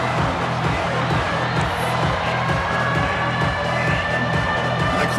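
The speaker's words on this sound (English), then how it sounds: "The crowd really making some noise now" A large video game football stadium crowd roars in a continuous, dense wash of cheering during a playoff game, holding steady and loud throughout.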